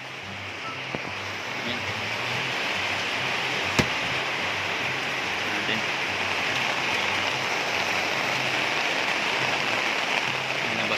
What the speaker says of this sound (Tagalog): Inabot na ng ulan, guys.